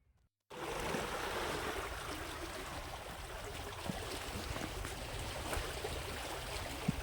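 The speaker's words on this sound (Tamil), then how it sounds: "இப்போ வலது காவாயிலேருந்து தான் நம்ம தண்ணி போயிட்டுருக்குது" Water rushing out of the right canal of the KRP dam in Krishnagiri, a steady broadband roar that starts abruptly and holds constant and fairly close, with no talk over it.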